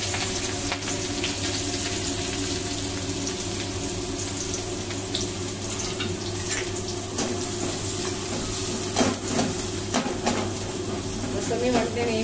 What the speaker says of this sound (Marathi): बघा, आपलं तेल गरम झालेलं आहे. त्यात मी पहिली मिरची टाकणार आहे. मग आपल्याला हा कांदा टाकायचा आहे.